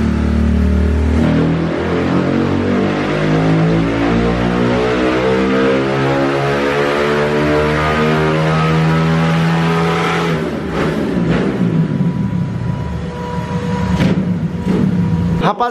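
A Honda Titan 150 motorcycle with a 70 mm bore kit revs hard on a dynamometer, its loud engine note climbing steadily in pitch through a full pull for about ten seconds before dropping off into choppy deceleration pops.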